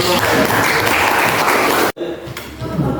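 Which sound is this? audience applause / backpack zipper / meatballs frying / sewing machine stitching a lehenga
audience applause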